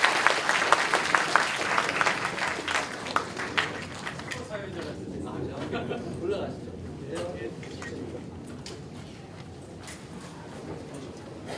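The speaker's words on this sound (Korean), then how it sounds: "다시 한번 박수 부탁드리겠습니다." Applause closes a university lecture by a politician, with dense clapping at first that thins and fades while people talk in the background.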